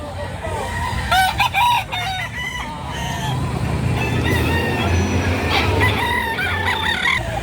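A bulik bandirado gamecock crowing at a poultry market in Lipa, Batangas, its crows mixed with clucking from other fowl and a loud busy background.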